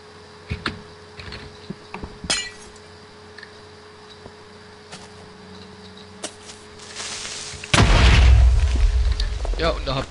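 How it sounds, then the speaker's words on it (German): In Minecraft, a Creeper detonates with a loud, sudden explosion near the end, preceded by scattered small game clicks and taps. "Der Creeper explodiert, obwohl 2 Blöcke dazwischen waren."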